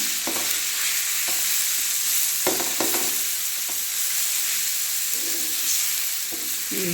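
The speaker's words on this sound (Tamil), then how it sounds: "எல்லாமே சேர அப்படி கலந்து கொடுங்க" A masala mixture for Madurai-style muttai mass is stirred while it fries in a pan. A continuous hissing sizzle runs throughout, broken by several sharp spoon knocks and scrapes against the pan.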